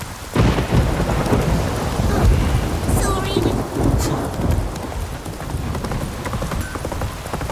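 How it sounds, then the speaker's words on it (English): In the video game The Witcher 3: Wild Hunt, heavy rain hisses steadily while thunder cracks and rumbles near the start, with a horse's hooves clip-clopping beneath the downpour. "It's raining."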